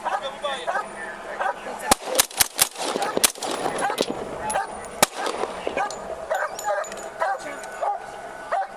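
A police dog barks repeatedly during an arrest outdoors, sharp loud yips and barks in clusters among tense shouting voices, with a whimpering tone between bursts.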